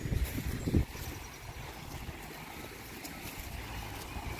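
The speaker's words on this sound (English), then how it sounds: "The creek still flows." A creek flows with a soft, steady broadband wash. The water sounds fairly distant and even throughout, with a brief louder rustle near the start.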